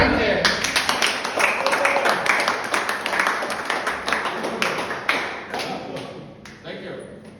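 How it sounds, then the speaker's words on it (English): Steady applause from a group at a gathering of motorcycle riders, dense close clapping that carries on for several seconds and thins out toward the end, with voices mixed in. "I want to give him a great, not only one applause, a great applause"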